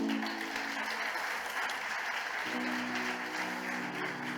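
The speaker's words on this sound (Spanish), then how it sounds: "denle un aplauso al Señor" Congregation at a Sunday church service applauds, a loud, continuous wash of clapping over soft held keyboard chords that shift partway through.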